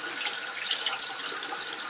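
Water from a tap runs steadily onto a box in a leak test, a continuous close hiss of flowing and splashing water with no talk.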